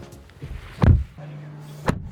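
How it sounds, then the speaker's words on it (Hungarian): The door of a 2025 BYD Atto 2 Active swinging shut, a single solid, muffled thud at close range, followed by a faint click and a low hum before a second short knock. "és az ajtó hangja"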